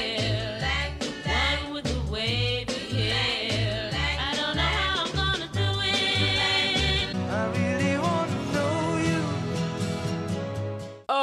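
A full pop song with layered instruments, steady bass and drums, and sustained harmonic melody lines playing continuously at a strong, even level.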